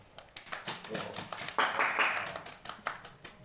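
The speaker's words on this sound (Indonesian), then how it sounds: "Tepuk tangan dong." A few people clap hands at an informal Ramadan Q&A gathering, sparse and uneven, with scattered claps building briefly into a short burst midway and then trailing off.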